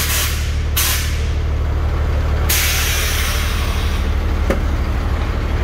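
Air suspension on a VW 24-250 truck hisses in loud, broadband bursts, each releasing over a steady low engine idle, with sharp onsets at a few points across the span.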